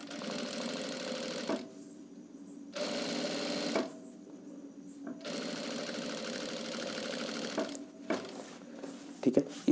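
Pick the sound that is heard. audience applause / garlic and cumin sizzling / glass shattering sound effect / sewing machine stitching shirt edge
sewing machine stitching shirt edge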